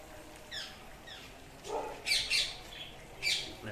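Small Australian parrots kept at a farm house give a few short, faint squawks and chirps in quick bursts over low background hiss.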